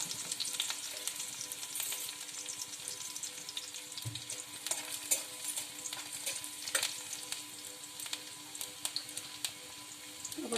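Green chilli and garlic fry in hot oil in a wok with a continuous crackling sizzle, steady and close, broken by scattered sharper pops and a few stirring scrapes.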